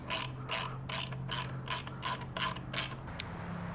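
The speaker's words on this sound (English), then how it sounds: "Of course, I only have this monstrous ratchet on hand." A large ratchet wrench tightens a bolt while a Shark Guard toe protector is installed, giving about eight quick bursts of close, loud clicking at a steady back-and-forth rhythm, with no talking.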